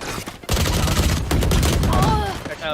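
Rapid bursts of gunfire from a Valorant match at a university tech fest tournament crackle loudly and continuously for a few seconds, close and dense, with a voice faintly underneath.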